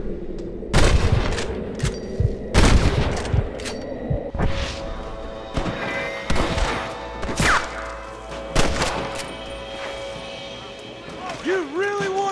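Gunfire in Red Dead Redemption, set in the Wild West, with repeated loud shots fired in bursts and spaced single blasts, mixed with shouting voices and game sounds.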